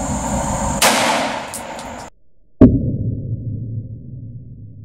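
A Remington RP9 pistol round is fired at body armor outdoors: a loud close crack with ringing tail, a brief hush, then a second sharp impact fading out.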